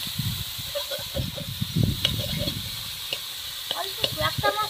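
Fish fat with turmeric fries in a pan, a steady soft sizzle with bursts of crackle and the clink of stirring, close and moderately quiet.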